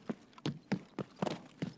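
Horse hooves clip-clop in a video game, a steady run of about seven even, moderately close hoofbeats with no voices over them.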